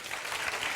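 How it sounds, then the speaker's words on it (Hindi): Loud applause from a crowd gathered to celebrate three friends landing government jobs, a dense steady patter of many hands filling the short moment without a break. "जोरदार ताली बजाओ"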